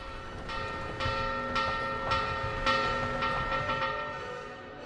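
A roller coaster station bell in a video game rings repeatedly in an irregular series of bright, metallic strikes over a low mechanical rumble, the ringing fading toward the end.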